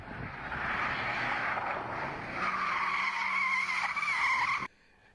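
Tires squealing on a car drifting in a Hajwala-style run in Saudi Arabia, a sustained loud screech with engine roar that rises and wavers for several seconds before cutting off abruptly.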